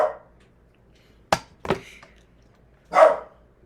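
A dog at home barks at a visitor arriving at the door: a few sharp, separate barks spaced irregularly over quiet room tone, fairly close.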